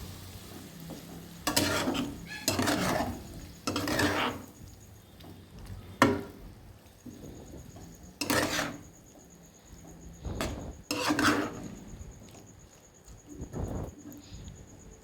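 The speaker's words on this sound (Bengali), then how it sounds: "দিয়ে আলু পোস্ত সঙ্গে ভালোভাবে মিশিয়ে নেবেন।" Fried potatoes being stirred with poppy seed and green chilli paste in a pan, a series of separate scraping, thudding strokes of a spatula against the pan with a faint sizzle underneath and quiet pauses between.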